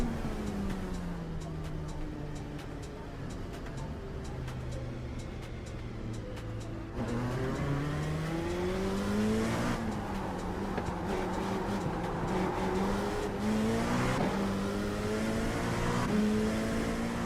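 A simulated race car laps Daytona in a sim racing game, its engine droning and rising through the gears with a steady high whine, pitch sweeping up and down as it accelerates and lifts, continuous and close throughout.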